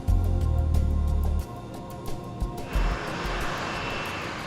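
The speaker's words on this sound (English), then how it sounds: "The recently serviced plane is a Brazilian-made Embraer E190." A Brazilian-made Embraer E190 twin-engine narrow-body jet runs with a loud low rumble that drops after a moment, then a broad steady whooshing roar builds and holds.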